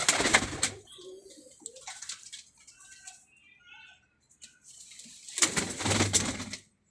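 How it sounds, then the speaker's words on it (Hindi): Slate Lakha pigeons on a rooftop loft, soft low cooing and calls heard close by, with bursts of fluttering wings at the start and again near the end and quieter gaps in between. "ये लाखा कबूतर देखे, स्लेटी लाखा कबूतर"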